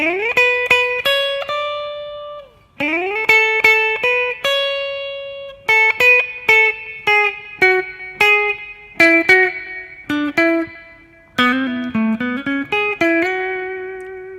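A slow kompa electric guitar melody of plucked single notes and short phrases, each note ringing briefly, with pauses between groups; clean and close.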